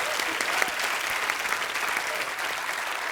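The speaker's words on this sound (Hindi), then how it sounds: "जोरदार तालियां इस बात के लिए।" A studio audience at a comedy talk show breaks into loud, sustained applause, dense clapping that fills the room evenly from start to end.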